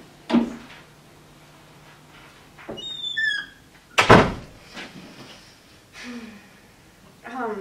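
A door is opened with a sharp, loud thump midway, among scattered knocks, creaks and faint voice sounds in an indoor room.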